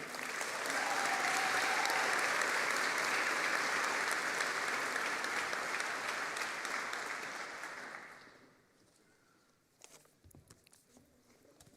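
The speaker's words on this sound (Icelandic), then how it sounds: "Og þá má klappa fyrir hljóðtækninefum." Loud, sustained audience applause fills a graduation ceremony at Harpa concert hall for the Tækniskólinn technical college, holding steady for about eight seconds before fading to scattered claps and quiet room noise.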